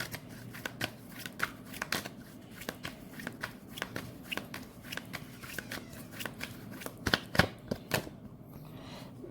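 Tarot cards being shuffled and drawn, giving a steady run of soft, close riffling snaps and flicks that grow slightly busier near the end, with no voices.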